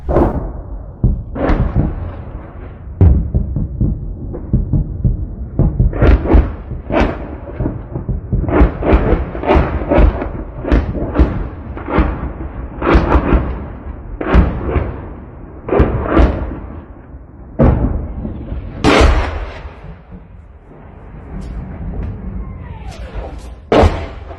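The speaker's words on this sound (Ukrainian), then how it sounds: "20 грудня Херсон прокинувся від вибухів, які лунали в усіх районах міста" Explosions from Russian shelling of residential areas in Kherson, a long series of loud, sharp booms and thuds at irregular intervals, some close and heavy, others duller, with rumbling between them and no talk.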